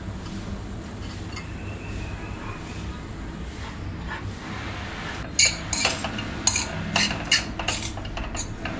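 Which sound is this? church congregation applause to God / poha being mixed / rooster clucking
poha being mixed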